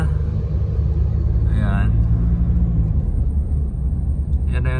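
Road traffic heard from inside a car on the NLEX expressway on the way to the airport: a steady, heavy low rumble fills the whole stretch, with a brief voice and a faint high hiss partway through.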